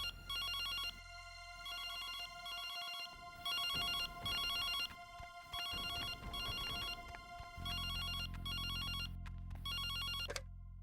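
A telephone rings in repeated bursts of bright electronic trilling, loud and close, the pattern continuing without a voice until the call is picked up.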